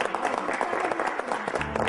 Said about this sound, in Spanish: un aplauso para Alicia